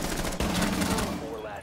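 Dense, continuous gunfire in Rainbow Six Siege, loud and close, with overlapping shots and a sharp transient partway through, mixed with game noise and faint voices.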